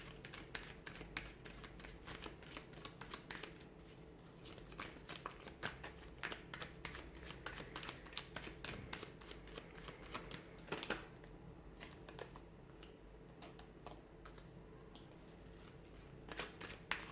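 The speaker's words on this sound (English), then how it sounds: "Cards are just falling out." Tarot cards being shuffled by hand, a dense run of quick papery riffles and taps that continues steadily and fairly quietly close by.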